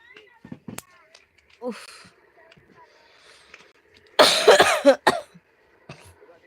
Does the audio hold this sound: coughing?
yes